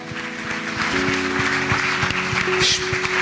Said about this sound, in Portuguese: Então aplauda o Senhor bem forte